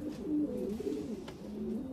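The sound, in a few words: long distance racing pigeon cooing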